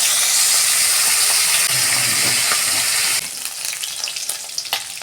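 Pomfret fish, three at a time, frying in hot oil: a loud, dense sizzle for about three seconds, then a thinner, crackly spatter with occasional sharp pops.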